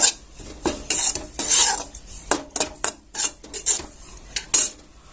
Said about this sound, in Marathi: आणि आता थोडंसं दोन मिनिटं हलवत राहायचं कडाई गरम आहे